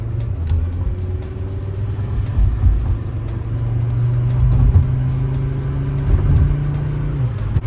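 A 1990s Acura car engine drones steadily while driving, a low rumbling hum with mild rises in revs, heard from inside the cabin without talk.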